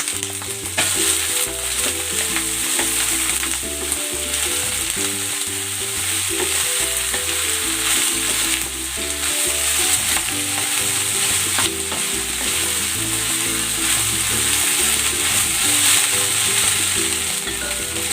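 Beef, onion and leeks frying in a stir fry pan give a loud, steady sizzle with continuous crackling and the scrape and clatter of stirring throughout, with no voices.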